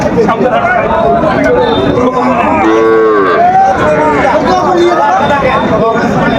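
At the busy Aftabganj cattle market, a single cow lets out a short, loud moo midway through, surrounded by constant nearby talk and crowd hubbub.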